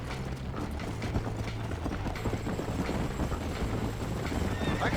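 Horse in the Red Dead Redemption video game, steady clip-clop of hooves at a walking pace with a whinny, carried over continuous ambient game noise.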